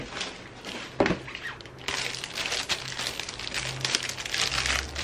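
A new iPad 2020 8th-generation case is unboxed, with close crinkling and rustling of packaging plastic and handling noises going on throughout.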